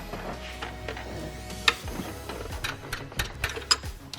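A ratchet works loose a 17 mm bolt on the fuel rail of a BMW N55 engine in an X5 xDrive35i, giving quick close clicking strokes in uneven bursts with small metallic taps between them.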